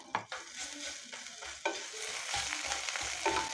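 Spices frying in a pan with ginger paste, turmeric, dried chilli powder and salt, stirred in steady scraping bursts with a soft continuous sizzle underneath, close and moderately loud, with no talking.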